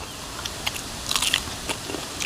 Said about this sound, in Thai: เนื้อมันนี่กรุบกรุบคัก